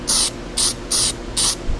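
Paint sprayed onto a Pontiac LeMans, four short, even hissing bursts with brief pauses between, close and fairly loud, no voices.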